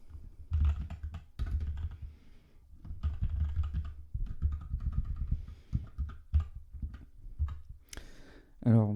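Steady typing on a computer keyboard while writing code, with rapid close clicking keystrokes in irregular bursts running throughout, under a French-speaking voice.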